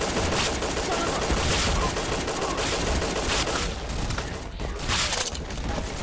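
Continuous loud AK rifle fire in the zombie shooter game BrainBread 2 on an arena rooftop map, rapid automatic shots and bursts layered with other gunfire, near and sustained for several seconds with no pause, no speech heard.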